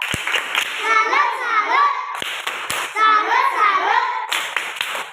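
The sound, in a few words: children doing the 'tepuk salut' rhythmic class clap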